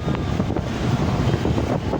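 Strong wind blows across an open village spot, buffeting the microphone with a steady, loud low rumble and gusty roar and no other clear sounds.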